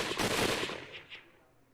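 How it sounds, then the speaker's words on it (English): A rapid burst of automatic video game gunfire rattles out, then trails off into a few fading distant shots and an echoing tail. "The blast of gunfire resounded in the distance."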